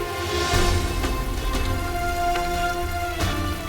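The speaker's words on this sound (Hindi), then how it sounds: "इस बारिश को भी आज ही होना था।" Steady rain falls outdoors, a dense continuous patter with a few louder drops and splashes standing out, loud and close with no voices.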